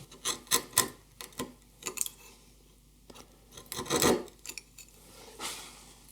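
A chisel pares end grain down toward the baseline of a wooden half lap joint for a trestle table, giving repeated short scraping strokes, close and moderately loud, with pauses between them.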